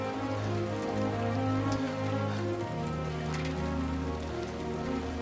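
Timefall rain in the video game Death Stranding 2 pours steadily and densely, a continuous patter of drops on surfaces with a low tonal game drone running underneath throughout.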